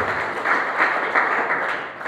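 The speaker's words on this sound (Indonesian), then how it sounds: "Tepuk tangan untuk Roh Kudus yang membantu kita." Congregational applause in a church service, a dense steady wash of many hands clapping for the full length with slight pulsing swells, fairly loud and with no talking over it.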